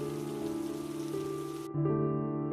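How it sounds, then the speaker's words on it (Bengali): Cartoon rain sound effect: a steady hiss of falling rain over sustained musical tones, cutting off abruptly partway through while the tones carry on. "এদিকে বৃষ্টি কিছুটা ধরে এসেছে।"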